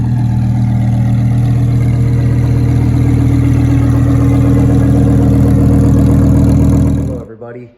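Lamborghini Huracan engine idling, a loud, steady low rumble close up that holds evenly for several seconds before being cut off abruptly.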